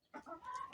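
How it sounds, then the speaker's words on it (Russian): A short rooster call, a brief nasal cluck rising into a drawn-out tone, moderately close. "Вот как красиво с вами здоровается наш петух."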